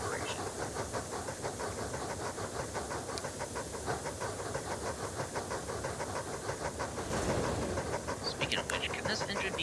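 A French-lettered 030 steam tank engine called the Boer running in Transport Fever 2, with a steady rhythmic chuffing and hiss that keeps up throughout, plus a short bright whistle-like sound near the end.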